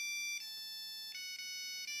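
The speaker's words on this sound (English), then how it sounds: "Or I'll go into like programming Nokia flip phone sounds." A programmed electronic ringtone in the style of a Nokia flip phone plays a short run of pure beeping tones, clear and steady with brief gaps between notes.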